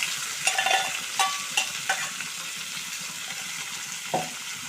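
Chopped tomatoes, about a quarter kilo, sizzle in hot oil in a pan, with a soft steady fry broken by several quick scraping stirs near the start and one more toward the end.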